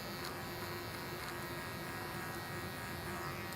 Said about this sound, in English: I'm also feeding with my comb into the clipper to blend